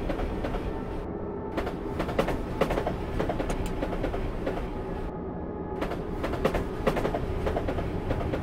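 A simulated FCC Class 377 electric passenger train running on the Midland Main Line between London and Bedford, with a steady rolling rumble and repeated clickety-clack of wheels over rail joints, continuous and fairly loud.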